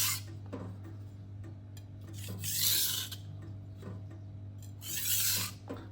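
A refurbished knife stroked across a Kintif hybrid whetstone in light back-and-forth passes, a soft rasping scrape swelling twice over a steady low hum, close by with no voices.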